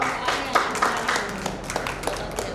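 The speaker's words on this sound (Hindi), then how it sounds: "तालियां।" An audience claps at a Jain forgiveness festival gathering, a brief ragged burst of applause with scattered hand claps, fairly close.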